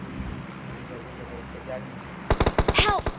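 Automatic gunfire in PUBG Mobile on the Miramar desert map: after a soft, windy background, a loud rapid burst of shots rattles out in quick succession near the end.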